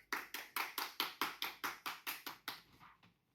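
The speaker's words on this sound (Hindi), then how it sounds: "कृपया करेंगे ताली से स्वागत करें" Applause welcoming a guest on a show: a steady run of about a dozen evenly spaced claps that fade out near the end, heard alone.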